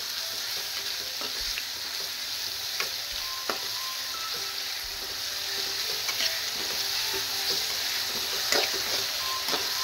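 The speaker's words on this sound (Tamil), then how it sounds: "இது கொஞ்சம் வெங்காயம் தக்காளி சீக்கிரம் வதங்கணும் இல்லையா" Chopped onion and tomato sauté in oil with a continuous soft sizzle, broken by the scrape and clack of a spoon stirring at irregular intervals.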